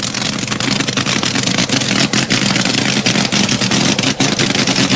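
Vintage drag racing car with a very powerful engine doing a burnout at Santa Pod, UK: a loud, continuous roaring engine with rough, sputtering fluctuations, heard close and alone.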